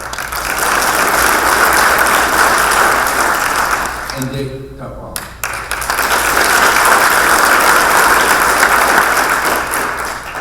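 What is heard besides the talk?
audience applause at a Hall of Fame ceremony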